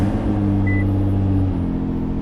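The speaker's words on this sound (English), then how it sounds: "well, first you start the car" A Nissan GT-R fitted with an air-bag suspension idles with a steady, close, low engine rumble and a faint higher whine. There are no voices and no clear start-up burst.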